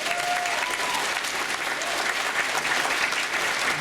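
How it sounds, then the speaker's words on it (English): A banquet audience at a gaming convention applauds in a steady, fairly loud wash of clapping that holds evenly for a few seconds. "One more quick, fast round of applause for Tim."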